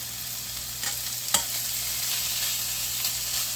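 Beef bacon frying in a pot on high heat for corn chowder gives a steady close sizzle and crackle, with one sharp pop and faint scraping, no talking.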